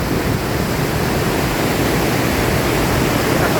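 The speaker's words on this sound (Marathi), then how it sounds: "सुंदर असा धबधबा" Steady, dense roar of a hidden waterfall at Savane, a constant broadband rush of falling water heard close and loud with no break or voices.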